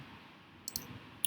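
A computer mouse clicks on a desk while editing a military website, two quick faint clicks close together followed by one more a moment later, otherwise quiet.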